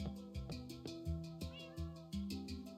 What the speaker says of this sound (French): J'ai adopté un chat, je lui ai donné du saumon, il est content.